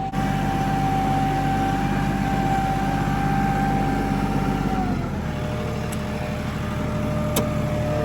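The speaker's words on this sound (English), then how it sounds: "shut the tractor off, and we'll talk more without the engine noise" A farm tractor engine drones steadily with a low rumble and a whining tone that drops and changes around the midpoint, as if throttling down.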